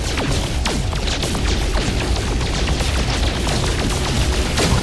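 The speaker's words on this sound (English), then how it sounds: "That's the second time I think I've shot down a ship." Dense stretch of crashing booms and bursts from a spaceship being shot down in No Man's Sky, loud and continuous in a busy space-combat mix, with no voices present.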